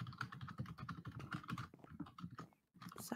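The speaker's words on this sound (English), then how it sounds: "Sorry about the keyboard." Computer keyboard typing, rapid close clicks in a continuous uneven rhythm with a brief pause near the end, quiet and with no talk.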